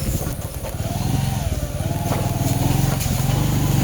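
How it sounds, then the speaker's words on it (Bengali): A motorcycle rides along a narrow, partly broken paved village road between sugarcane fields, its engine a steady close drone with a slight rhythmic throb that builds a little toward the end. "বড় ভাই মোটর সাইকেল চালাচ্ছে বেশ ভালো মোটর সাইকেল চালাই"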